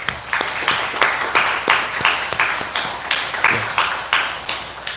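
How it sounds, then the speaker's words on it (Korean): A congregation at a Korean church service claps for Sunday school teachers, sharp hand claps repeating in a steady, rhythmic beat, close and fairly loud with no talk over them. "수고하는 교사들을 위해서 박수 한번 합시다"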